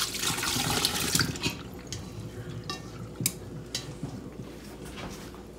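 Cooking juice from an Instant Pot insert of crumbled chicken breakfast sausage is poured off, a close liquid splash and trickle strongest at first, then thinner dribbles with small clinks of the metal insert.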